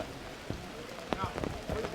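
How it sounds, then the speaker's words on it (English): Steady rain patters on surfaces outdoors during a Tolai ceremony near a beach, a soft continuous wash with a few sharper drops standing out, fairly quiet and steady throughout. "are waiting for the rain to stop"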